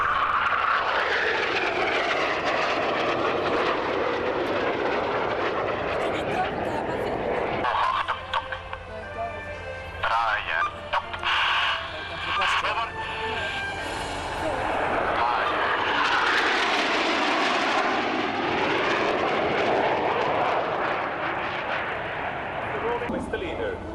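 Swiss Air Force Patrouille Suisse jets roar past at the RIAT 2006 air show, the engine noise swelling, fading and swelling again as they cross at high speed, while a commentator speaks over the public address.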